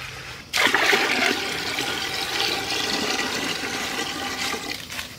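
Water pours out in a sudden, loud, steady gush in a forest, splashing and rushing continuously for several seconds close by before easing slightly at the end.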